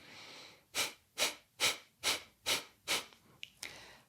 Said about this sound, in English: Each breath is a forceful exhalation and an automatic inhalation.